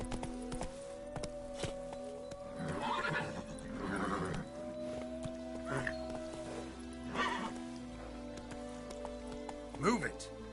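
Roach, the horse in The Witcher 3, neighs and whinnies several times with hoofbeats underneath, against a steady game drone, while a voice speaks in between.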